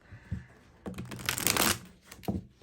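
Tarot cards are drawn from a deck, heard as a few soft, close papery shuffles and slides with short pauses between them.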